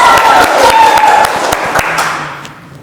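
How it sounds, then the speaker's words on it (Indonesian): A seminar audience applauds together after reciting the five principles of Pancasila in a civic nationalism lecture, a dense burst of clapping that gradually thins and fades over a few seconds. "Mantap, tepuk tangan untuk diri kita sendiri."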